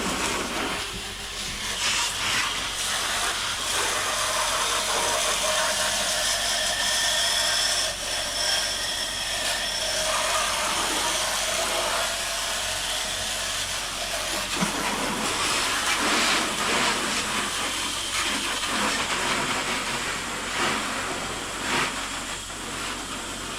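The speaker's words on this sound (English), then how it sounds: "I'm just gonna spray off some of the dirt." A hose sprays water steadily onto a Ram 2500 plow truck to wash off dirt after a heavy snowstorm, a continuous loud hissing rush that varies slightly in intensity, with no talking.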